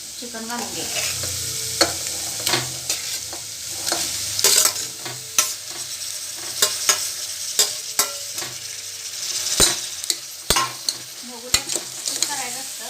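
Chicken pieces with turmeric, onions and ghee frying in a pan, with steady sizzling broken by repeated sharp scrapes and knocks of a stirring spoon against the pan throughout, close and moderately loud with no talk.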